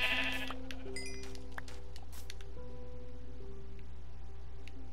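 A Minecraft sheep lets out a loud, wavering bleat at the start, followed by faint game tones and a steady low hum.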